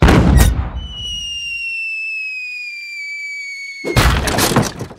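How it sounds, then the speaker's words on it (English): A sharp cannon blast opens, followed by a long descending whistle, then a second loud burst of crashing noise near the end. "let's fire the cannon"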